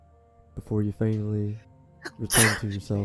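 A single sharp, loud sneeze bursts out near the end of a spoken line during a tabletop role-playing game session, with a voice talking just before it and briefly after.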